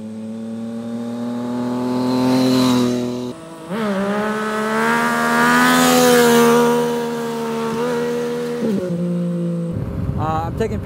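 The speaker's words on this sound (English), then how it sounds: "I'm taking Patrick's FJ09 for a little test ride" A Yamaha FJ-09 motorcycle on a test ride revs up loudly through the gears, with a brief drop at each shift and a rising, strained engine whine before settling back.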